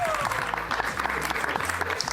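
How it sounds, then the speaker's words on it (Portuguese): An audience applauds a student presenter at a classroom technology and learning event, steady clapping filling the short stretch, with a voice faintly present underneath. "Por favor, gente, vocês podem aplaudir a você"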